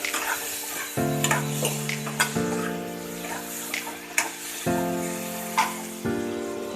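Potato and paneer frying in a pan with salt, stirred now and then, a soft sizzle with scraping spatula strokes, under a steady musical tone that shifts pitch every second or two, no talk.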